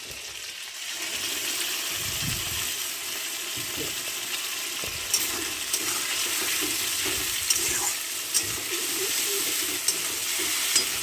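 Chicken and spices fry slowly in a pot, making a steady sizzle with wet bubbling. A spoon stirs through them, giving a few sharp scrapes in the second half.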